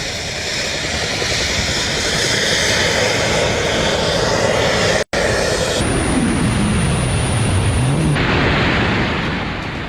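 A jet suit carrying a person in flight roars loud and close, a harsh continuous turbine blast with a brief cut midway, then a sweeping pitch change as the pilot moves past, no voices.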